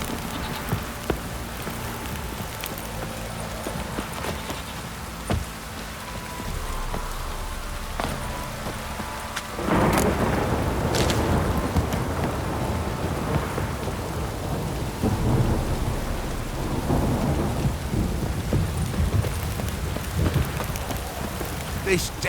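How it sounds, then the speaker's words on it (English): A heavy downpour in The Witcher 3, steady dense rain hiss that swells louder partway through with a deep rumble of thunder, continuous and close. "This downpour's a bastard,"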